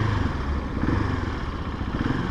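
A 2019 KTM 690 SMC R supermoto, its 690 cc single-cylinder engine fitted with twin balancer shafts, runs at a steady idle nearby, a continuous low, throbbing rumble with no speech over it.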